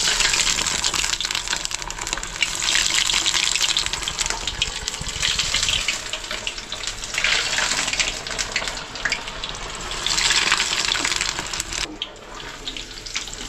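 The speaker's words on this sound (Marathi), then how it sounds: "आता मी एक एक तळून काढते." Bread-crumbed balls fry one at a time in hot oil over a medium gas flame, a continuous loud sizzling hiss with bubbling crackle that rises and falls, no voices over it.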